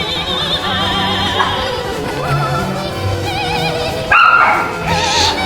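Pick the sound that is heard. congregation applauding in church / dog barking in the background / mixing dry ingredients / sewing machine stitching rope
dog barking in the background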